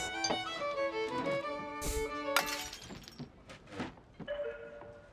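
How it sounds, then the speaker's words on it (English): A glass thrown to the floor in the card-cheating game Card Shark shatters with sharp bright crashes, followed by scattered clinks and tinkling fragments settling, close and moderately quiet. "Throw your glass on the floor"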